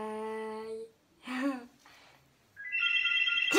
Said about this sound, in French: On a un peu le téléphone qui sonne